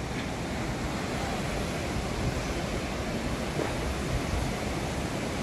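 Fast-flowing river water seen from a bridge in Sikkim, a dense, steady rushing roar that fills the whole stretch with no pauses and no voices.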